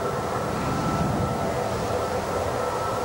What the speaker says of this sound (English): our first coal train hove into sight over the horizon.